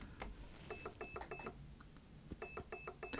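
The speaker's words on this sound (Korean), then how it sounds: "트리거를 한 번 더 당기면은 삐, 비프음이 삐삐삐 세 번울리게 됩니다" An electronic trigger unit in an airsoft electric gun emits two sets of three short, sharp electronic beeps, evenly spaced and close, with a brief pause between sets and no talking.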